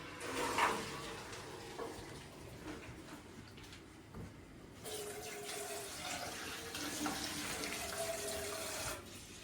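Running tap water rinses dried green beans in a kitchen sink and drains off them, a steady mid-level splashing with a brief louder burst near the start and fuller flow in the second half.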